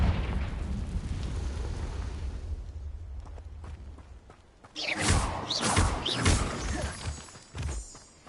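A booming magical blast from the Confringo spell in Hogwarts Legacy erupts partway through, a loud crackling burst with rumbling follow-up hits after a quieter stretch of battle noise.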